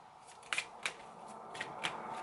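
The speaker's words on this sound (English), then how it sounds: "So now I'm going to shuffle my, what is it? Secret Language of Animals Oracle deck." A Secret Language of Animals oracle card deck being shuffled by hand, close and fairly quiet, with several crisp riffling bursts spaced across a soft background.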